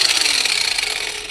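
A power tool cuts steel pipe for a custom motorcycle frame, a brief, steady high-pitched grinding whine at close range, heard alone.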